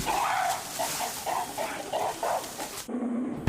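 A western lowland gorilla mother howls in the wild, a run of repeated short, rough calls in a fairly steady rhythm, moderately loud and close, with a brief pause near the end.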